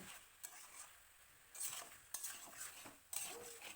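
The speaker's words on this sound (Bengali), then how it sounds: "দেখুন আমাদের কষানো পর্ব চলছে" Mutton with Kashmiri chilli powder and spices cooks down in a pan for Bengali mutton kosha, faint soft sizzling broken by several short bursts of stirring and scraping.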